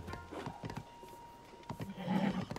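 A horse in The Legend of Zelda: Tears of the Kingdom gives off scattered hoof clip-clops and a snorting, whinnying burst near the end, all fairly quiet against a soft game backdrop.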